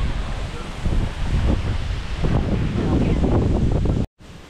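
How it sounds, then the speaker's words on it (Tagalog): Strong outdoor wind buffets the microphone in steady loud gusts at a work site, with a brief dropout near the end. "Grabe ang hangin!"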